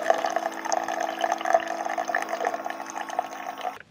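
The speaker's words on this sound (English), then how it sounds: "you just fill up your coffee cup to the level that you want it, and then you pour it into the reservoir" Water poured from a cup into a coffee maker reservoir in a camper van, a steady close splashing trickle for about four seconds that stops abruptly at the end.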